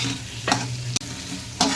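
Drumstick pods being stirred into masala frying in a pan, with two scraping strokes of the spoon over a steady low sizzle, close and alone.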